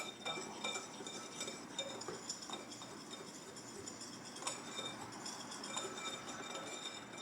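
A spoon stirs ground cinnamon, nutmeg and cloves together in a bowl for apple cinnamon bread, making a steady close scraping rustle dotted with light clinks against the bowl, with no talking.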